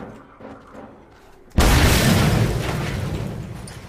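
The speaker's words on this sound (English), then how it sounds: "That was some cool explosions." A thrown explosive detonates in the Mad Max video game, a loud sudden boom after quiet low rumbling that then rolls into a long, slowly fading roar.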